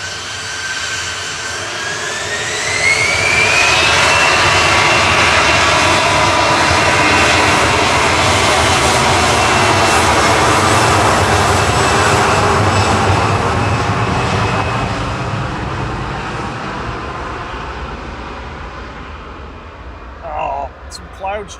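An EasyJet jet airliner passes at Manchester Airport, its engine roar swelling with a climbing whine, holding loud for several seconds and then fading, with a voice talking over it.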